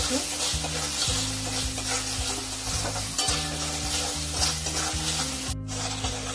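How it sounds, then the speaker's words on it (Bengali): Spices and soaked chickpeas stir-fry in a pan for Bengali mochar ghonto, with a loud steady sizzle under rhythmic, regularly repeated scraping strokes of a spatula, close up, and a brief break near the end. "তার মধ্যে ভেজানো ছোলাটাও দিয়ে দিলাম, দিয়ে একসঙ্গে নাড়তে থাকবে।"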